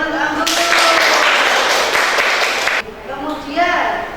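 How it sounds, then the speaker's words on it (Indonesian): A class claps for a student, a thick burst of applause that holds for about two seconds and then cuts off, with a voice speaking before and after it. "Yuk beri tepuk tangan ke Anggun."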